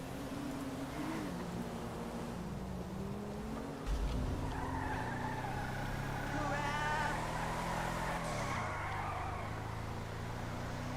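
Tires skidding and squealing on a car in the video game Redline, a long wavering screech over a droning engine that shifts pitch as the car slides, with a bump partway through.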